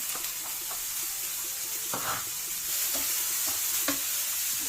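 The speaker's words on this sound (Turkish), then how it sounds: "Şimdi öncelikle doğradığım soğanımı tavama aldım." Onions sizzle steadily in a frying pan with a constant hiss, punctuated by a few soft stirring scrapes.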